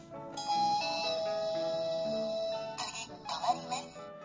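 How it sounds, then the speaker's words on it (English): A stop request bell on a Kyoto city bus chimes in a clear, sustained tone, followed by a further chime and a soft recorded voice announcement amid quiet cabin noise. "Before reaching your desired stop, ring the bell to notify the driver to stop at the next destination"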